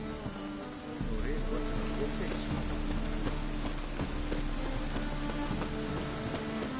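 Steady rainfall in the Witcher 3: Wild Hunt video game, a dense continuous patter with scattered drops, joined by layered game ambience and music after the first second.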